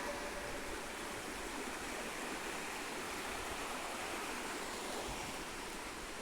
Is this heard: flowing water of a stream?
yes